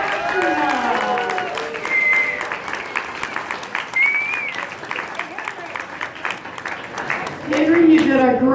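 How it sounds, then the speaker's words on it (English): Audience applause for a new astronaut during a tour of NASA, a moderate clapping texture that runs underneath voices, with whistle-like tones and other bits of crowd noise mixed in. "let's have a big round of applause for our new astronaut"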